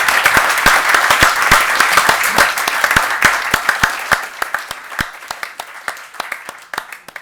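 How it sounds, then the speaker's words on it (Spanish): Audience applause for colleagues at a round-table event, loud and dense at first, then thinning into scattered individual claps that taper off near the end. "Venga, un aplaudiment para los compañeros."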